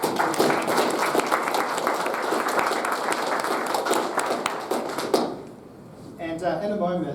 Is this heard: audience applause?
yes